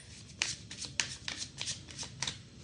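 Tarot cards being shuffled by hand indoors, a close run of crisp riffling flicks and soft slaps in an irregular rhythm, fairly quiet.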